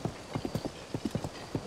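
Heavy hoofbeats of a giant white horse in Zelda: Tears of the Kingdom, a steady clip-clop gait of about a dozen close, clear thuds with no talk over them.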